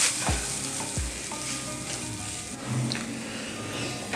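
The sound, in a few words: potato being stirred and mixed with spices in a pan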